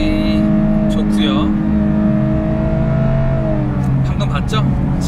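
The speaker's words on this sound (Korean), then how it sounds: "매뉴얼 모드로 한번 운전해 볼게요. 네, 엔진음이 상당히 좋고요." A Lexus LC500h hybrid coupe driven in manual mode, its engine revving loudly and steadily from inside the cabin, pitch climbing and then dropping at a shift, with brief higher mechanical whines near the end.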